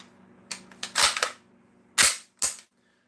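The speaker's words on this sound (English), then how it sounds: "You get an MP5 slap." A sharp metallic MP5 charging-handle slap effect played on a livestream: a burst of crisp mechanical clacks and snaps, then two further distinct hits, close and loud with no talk.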